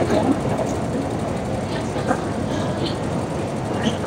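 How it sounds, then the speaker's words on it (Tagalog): A Hong Kong MTR subway train rumbles steadily through an underground station, with a constant low roar and faint metallic clicks under distant ambient noise. "Maghintay po tayo ng tren papuntang Admiralty"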